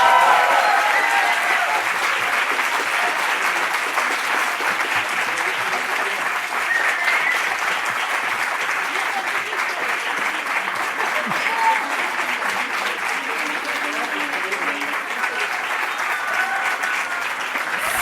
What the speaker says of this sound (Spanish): Felicitamos a la profesora Laura Gallardo, un muy merecido aplauso por la labor desarrollada liderando este cen